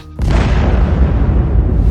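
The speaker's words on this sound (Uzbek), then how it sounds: "Soat 12:22 da esa ulkan portlash sodir bo'ldi." A huge explosion of a storage tank at the Soviet Mayak plant bursts in suddenly and loudly, then a deep, sustained rumbling roar fills the rest of the clip.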